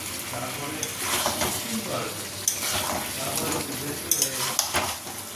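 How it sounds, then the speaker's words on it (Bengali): Potatoes tossed into sautéing chicken in a pan, crackling and sizzling as a spatula scrapes and stirs, with intermittent metallic clinks against the pan. "চিকেনটাও কষা হয়ে গেছে, এবার এতে আলুগুলো দিয়ে দেবো।"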